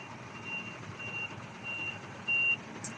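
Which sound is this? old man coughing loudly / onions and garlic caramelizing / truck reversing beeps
truck reversing beeps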